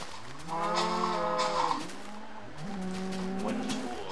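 Cows in a Minecraft-style blocky game lowing in a couple of drawn-out moos, close and clear over quiet ambience.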